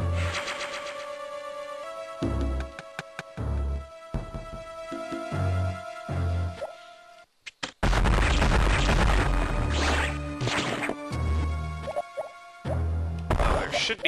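Bomb blasting a bomb block in the video game Metroid Fusion, a series of short booming pops over looping game music, with a brief silence before the music and effects resume louder.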